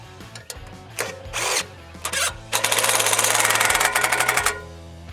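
A power drill drives screws through boards set under a ladder beside a log at a chainsaw milling site, giving short whirring bursts and then a longer steady run, loud and close with no talking.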